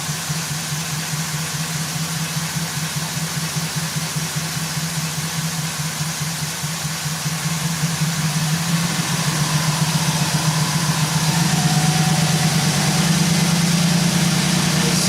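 A 2009 Chevy Silverado with an AFM engine and a misfire idles with a steady, loud, pulsing low rumble, and the engine speed rises noticeably partway through.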